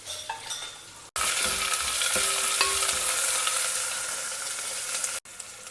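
Onions with ginger garlic paste and green chillies sizzle loudly in hot oil while a spoon stirs and scrapes the pan, a steady close fry broken by two brief cuts.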